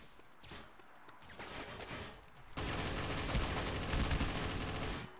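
Teammates firing guns in the shooter game Tactical Intervention, with bursts of gunshots that grow into dense, loud continuous fire over the second half.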